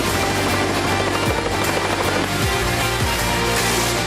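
Loud, continuous helicopter rotor thump fills the whole stretch, a close, throbbing whir with a slightly wavering pitch, aboard the Turkish aircraft carrier Anadolu.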